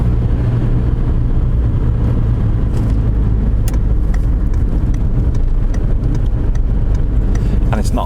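A car driving along a near-empty road at night in Deeside, heard as a steady low engine and tyre rumble from inside the cabin, continuous throughout with faint speech-like murmurs in the background.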